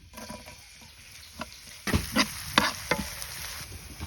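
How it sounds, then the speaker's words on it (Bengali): Chopped garlic and onion fry in oil in a wok for a vegetarian dish with beans, potato and tomato, giving a soft sizzle broken by several sharp scraping stirs, with no talk. "বাগার দেওয়ার লাগিয়া এখন কড়াইয়ের মধ্যে তেল দিয়ে দেবো। রসুন কুচি, পেঁয়াজ কুচি,"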